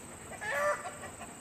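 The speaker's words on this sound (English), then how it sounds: "Chicken scrap." Chickens cluck near a honey bee hive during a midsummer inspection, with a short, moderately close burst of clucking rising briefly over a quiet outdoor background and no talking.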